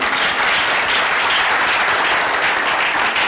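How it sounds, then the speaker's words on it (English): Dense, steady applause from a live masterclass audience fills the whole stretch, loud and sustained without a break. "A round of applause for this gentleman as well."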